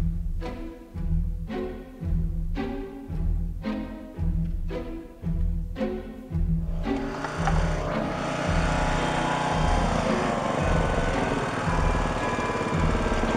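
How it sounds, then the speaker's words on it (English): A red 17-horsepower ride-on lawn mower engine runs loud and close by the roadside, a steady engine drone with rhythmic surging pulses at first, then a continuous, brighter roar as it revs or moves off. "roadside on a ride-on lawnmower, 17 horsepower, red beast"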